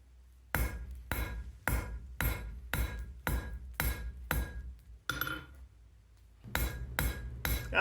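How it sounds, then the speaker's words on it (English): Sharp metallic hammer strikes ring out as a small Z-fuller is driven into steel on an anvil, marking off a section for a forged worm-head fire striker; about a dozen evenly spaced blows, close and loud, with a short pause midway. "Here I'm using a little Z-fuller to partition off the bit of metal I want to make the worm's head out of"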